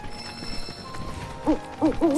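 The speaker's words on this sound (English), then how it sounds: "I hear you, little bird." Bird calls from Final Fantasy VII Rebirth: a few short, warbling hoots rise above a quiet game backdrop of soft ambient tones, arriving in a brief cluster near the end.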